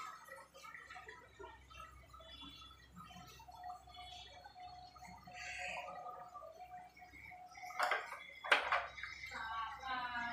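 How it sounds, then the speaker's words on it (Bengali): A pomfret fish curry made with mustard and poppy seed paste simmers in a pan, bubbling and gurgling steadily up close. A brief voice-like squeal rises near the end. "দিয়ে দিলাম, একটু ফুটবে, তারপরে নামিয়ে দেব।"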